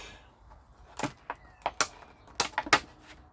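Small plastic shell around a grafted F1 Sharapova eggplant micro-plug being pried open, a handful of close, sharp plastic snaps and clicks spaced unevenly across a few seconds, no talk.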